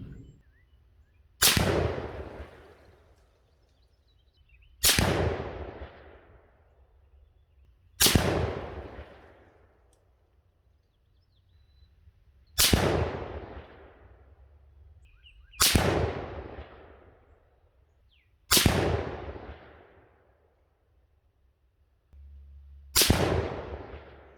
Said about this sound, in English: let's jump into shooting our 3-shot groups and seeing what these can do down there at 100 yards